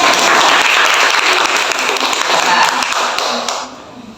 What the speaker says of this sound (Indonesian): Boleh tepuk tangan dulu kan?